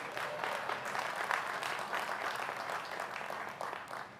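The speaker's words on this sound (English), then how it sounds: "You can clap for him." Steady applause from a large audience at a political speech, dense continuous clapping throughout with no talk over it.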